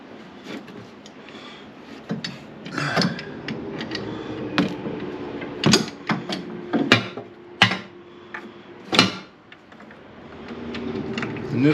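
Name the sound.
socket wrench turning a lug nut bolt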